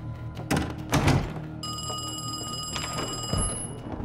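A telephone rings in Call of Duty: Black Ops Cold War, a steady electronic ring that starts about a second and a half in and holds, mixed with a low game ambience and a few thumps near the start.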